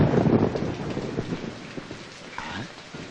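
Steady rain falls at night in a film scene, a dense hiss of drops with a faint low rumble beneath, continuous and moderately close.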